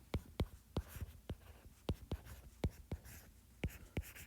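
A pen taps and scratches on paper while a number is written by hand, giving a string of short, crisp, close strokes in an irregular rhythm against a quiet room.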